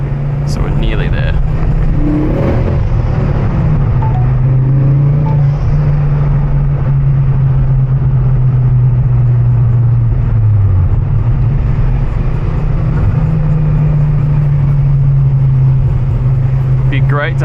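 Ford Focus XR5 Turbo on a mountain road, its engine droning steadily inside the cabin with gentle pitch rises and dips as it pulls through the bends, while a person talks over it.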